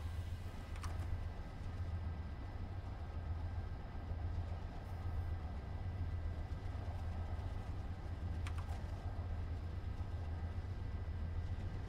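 Passenger train in the Train Simulator video game pulling away after its brakes release, a steady low engine drone and rolling hum with two faint brief clicks, no voices.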